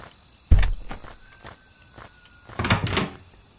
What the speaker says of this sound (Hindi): अपने आप खुल रहे हैं सारे दरवाजे।